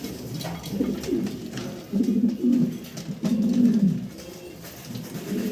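Fancy black Mondain pigeons coo in repeated low, throaty phrases, about three rolling bursts close by with no talk over them.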